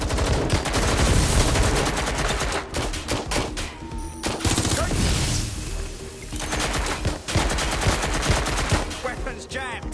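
Video game gunfire rattles almost without pause, dense rapid bursts and single cracks piling up loud and close, with brief quieter gaps and faint voices under the shooting.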